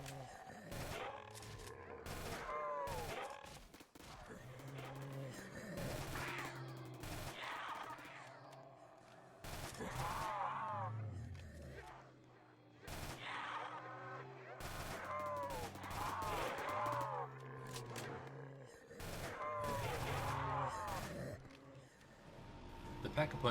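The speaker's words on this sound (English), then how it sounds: "Now let's watch this gun in action." Rapid bursts of gunfire from a high-rate-of-fire weapon in the Roblox game Project Lazarus, crackling in repeated volleys with short gaps, loud and close, alongside shouting voices and game effects.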